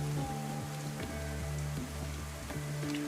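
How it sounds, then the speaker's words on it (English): Heavy rain pours steadily in the survival video game DayZ, a dense, even hiss of downpour throughout, with faint tonal hums underneath and no voices. "I want to get down to the water well before the rain lets up. It's in a heavy pour"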